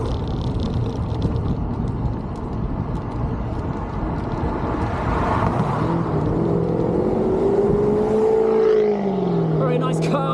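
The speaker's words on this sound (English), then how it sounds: "Very nice car." A car passes on a road at the base of a hill climb, a steady engine whir building and then a rising pitch sweep as it goes by, heard under wind and road noise.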